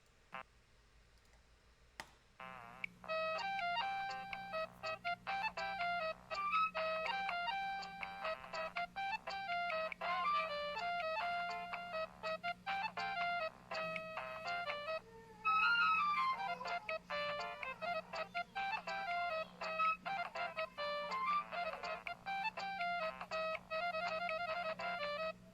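A ringtone plays as a bright, steady electronic melody of quick repeating notes, clear and continuous for about 23 seconds after a brief quiet start, with no speech over it.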